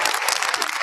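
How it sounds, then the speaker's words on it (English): An audience claps at a televised gubernatorial debate venue, dense steady applause from a crowd, loud and close for the whole short moment. "let's get a round of applause for Pomona College and where we are in this beautiful venue"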